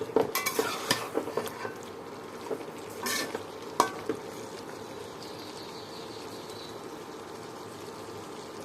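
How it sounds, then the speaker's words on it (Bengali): Chicken frying dry in oil with black eggplant and onion, stirred with a utensil; scraping and clinking strokes come in a busy first four seconds, then settle into a steady low sizzle heard up close. "মুরগির গোস্তটা একদম কালো বেগুন দিয়ে ভাজা করছি"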